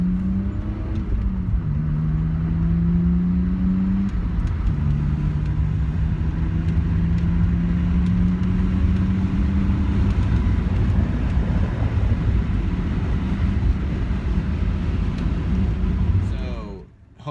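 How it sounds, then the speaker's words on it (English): A manual transmission car accelerating hard, its engine rising in pitch through gear changes over a steady road rumble and wind noise, with a voice talking over it. "No, we're just accelerating very fast."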